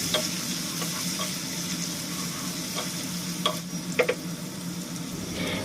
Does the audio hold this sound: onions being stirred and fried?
yes